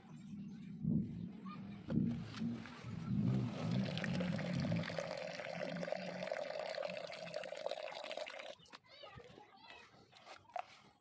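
Sand being rinsed with clean water in a small bucket while mites are cleared from a hermit crab enclosure: steady sloshing and swirling water, with children's voices and other chatter underneath.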